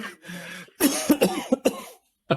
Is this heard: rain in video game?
no